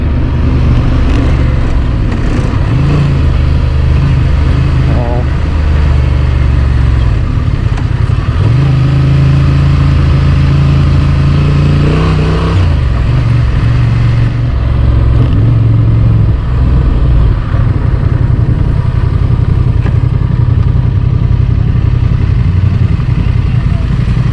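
Honda Transalp light adventure motorcycle engine droning steadily while riding, loud and continuous with shifting pitch, wind rumble throughout and people talking over it.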